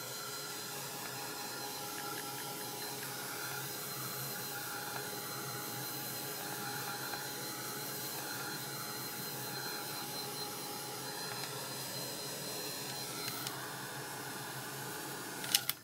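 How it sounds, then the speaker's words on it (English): A heat gun blows over wet paint on an art journal page, a steady whooshing, whining drone of moving air that holds at an even level throughout. "I'm going to hit that with a heat gun"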